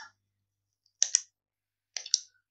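A computer mouse clicked twice in quick succession, then another pair of sharp, close clicks a second later, with silence between.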